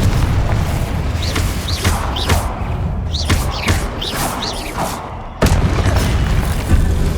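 Fiery spell blasts in the video game Hogwarts Legacy, a series of booming explosions and thuds with swooshing casts over a rumbling game soundtrack, loud and close with a sharp burst near the end.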